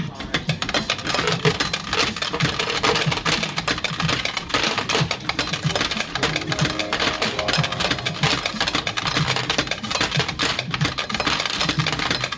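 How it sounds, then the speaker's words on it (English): Coins rattle out of an arcade machine payout in a long, steady metallic clatter that runs close and unbroken for several seconds. "Always sounds like an asthmatic payout tune, that."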